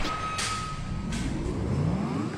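Two short reversing beeps from a truck about a second apart ring out over its steady rumbling engine, which rises in pitch toward the end.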